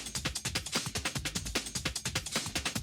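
A punchy, tightly compressed Schranz-style drum loop with rapid, evenly spaced hits and bright cymbal texture, close and dense, cutting off abruptly at the end.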